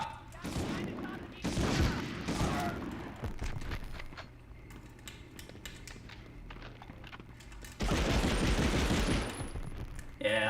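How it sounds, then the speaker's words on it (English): A machine gun fires in the World War II shooter Medal of Honor in rapid bursts, with a long pause between them. Someone talks over and between the shots. "that machine gun feels great"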